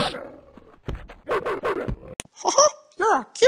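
A dog from the Survivalcraft video game in a meme, with short yelps and whimpers coming between bursts of speech, moderately loud and close.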